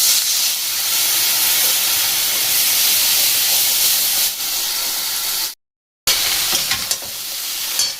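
Cumin seeds, black cumin, ginger and ground cumin, coriander and turmeric sizzle loudly in a pan with a splash of water, a dense close hiss with stirring scrapes, cut by a brief silent gap before the sizzling resumes.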